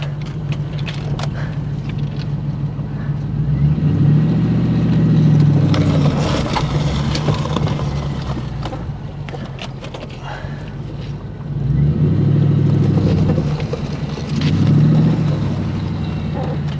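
Manual-transmission car at a salvage auction moved a short way forward, with a loud idling engine that swells twice as it revs and the clutch engages, heard close by.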